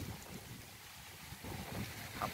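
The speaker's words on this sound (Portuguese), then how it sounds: "Olha o vento aqui. Nas árvores aqui." Storm wind blowing through trees in Aparecida de Goiânia, a steady, rushing broadband roar with gusty swells and microphone buffeting throughout.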